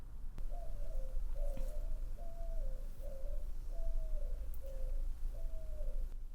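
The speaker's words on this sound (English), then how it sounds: "The doves are singing outside as we wrap up our chat here" Doves coo outside in a slow, even series of about seven soft calls, each a short falling note, heard over a low steady background hum.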